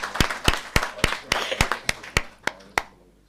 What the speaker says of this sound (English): Council, can we give the two gentlemen a round hand of applause?